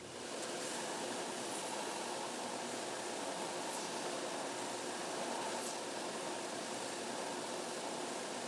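A bandsaw fitted with a wood-cutting blade slices through a brass blank for a guitar locking nut, giving a steady, fairly quiet broadband hiss and whir that runs without a break.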